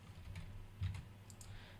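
Computer keyboard typing while writing C# code, a faint run of quick soft key clicks close to the microphone with no talk.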